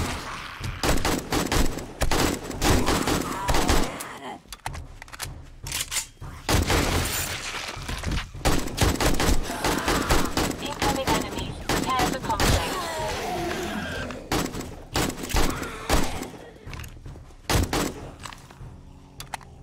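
Gunfire tears into a zombie horde in the survival video game 7 Days to Die: dense, rapid bursts of loud close shots with thuds and shattering, running almost continuously beneath someone speaking German.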